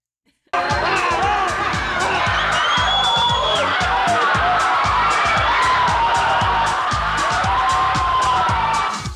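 A huge crowd of Madonna fans screams and cheers continuously, a dense, loud roar of shrieks and whoops sustained throughout with no break.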